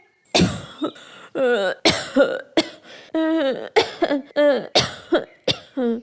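A cartoon bird character coughs repeatedly, about ten harsh, close bursts in an uneven rhythm, many trailing into strained, voiced throaty rasps, with no other sound between them.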